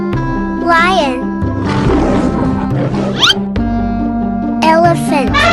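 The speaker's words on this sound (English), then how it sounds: "Lion." A cartoon lion roars in a loud, rough burst lasting roughly two seconds, surrounded by brief whistling cartoon effects and musical tones.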